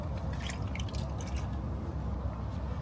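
Half a cup of milk pours into a mixing bowl of eggs for baking, a soft continuous trickle and splash outdoors, partly masked by steady wind-like background noise.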